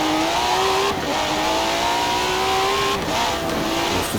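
A car engine in a Forza Horizon 4 street race revs loudly and steadily. The pitch climbs through the gears with two clear shift breaks, and tyre noise can be heard over the engine.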